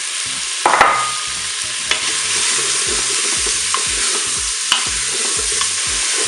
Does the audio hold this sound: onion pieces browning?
yes